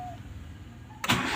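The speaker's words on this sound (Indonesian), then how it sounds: "Sekarang kita starter mesin ya." Car engine cranked with the starter during a charging-system check, a quiet idle hum before a sudden loud start that catches and keeps running steadily.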